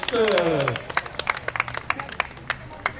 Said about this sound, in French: Allez, on peut applaudir cette performance donc, de Morgan de la Forêt avec Rial Cadill